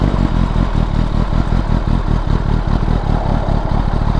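2022 Kawasaki ZX10R engine with a Scorpion slip-on exhaust idling loud and close, a steady rapid throbbing pulse with a fast lumpy beat and no revving, heard alone.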